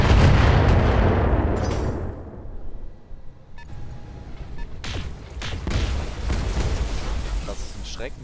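Three PPC weapon shots in the mech combat game Battletech, loud booming blasts with rumbling decay, heard alongside talk.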